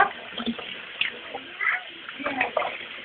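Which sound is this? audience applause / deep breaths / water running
water running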